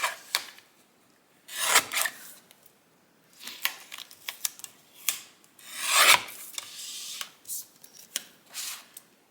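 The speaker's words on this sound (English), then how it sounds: "Do I have my trimmer? I do. Let's trim it." A paper trimmer cuts a holiday craft piece for a box-top decoration in a few short, dry rasping strokes, close and quiet, with bursts separated by brief pauses and some handling rustle.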